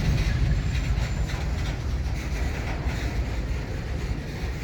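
A Wheeling & Lake Erie freight train led by EMD locomotives rolls over jointed rail in the evening, a steady low rumble of railcars with soft rhythmic clicking from the rail joints, moderately distant and unbroken.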